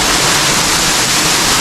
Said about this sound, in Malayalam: നമ്മളിപ്പോൾ അതുപോലെ വെള്ളച്ചാട്ടത്തിൻ്റെ അടിയിലാണ് ഇപ്പോൾ നിൽക്കുന്നത്.